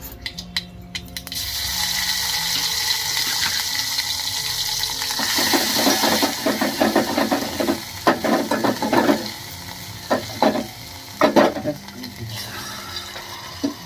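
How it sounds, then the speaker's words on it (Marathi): Green chili and garlic hit a hot pan and fry with a loud, broad sizzle that gradually settles, followed by a run of close scraping and clicking stirs toward the end. "हिरवी मिरची आणि लसूण टाकली"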